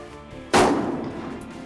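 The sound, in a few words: gunshot on a shooting range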